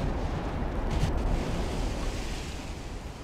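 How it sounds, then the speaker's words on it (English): Torpedoes launched from destroyers into the water in the naval game Ultimate Admiral: Dreadnoughts, a loud, steady rushing roar like surging surf that fills the whole stretch with no talk. "Torpedoes in the water."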